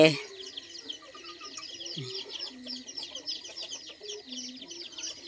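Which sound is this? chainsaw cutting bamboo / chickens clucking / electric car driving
chickens clucking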